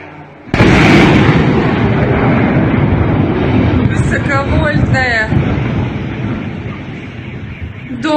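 A sudden loud drone explosion in Moscow bursts in, followed by a long roaring rumble, with an excited voice shouting over the aftermath.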